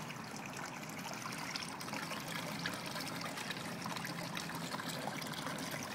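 An aquaponics bell siphon drains water steadily, a continuous trickling, gurgling flow that stays at an even level throughout, close by with no talking.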